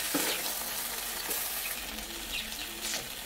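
Fried katla fish head, fried eggplant and fried okra are stirred together with taro and potato in a pan, a steady oily sizzle broken by scraping stirring strokes, close and alone without talk.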